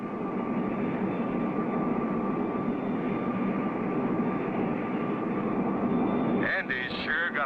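A steady, loud engine drone from an airplane on a test flight holds throughout, with a thin whine on top, and a voice briefly cuts in near the end.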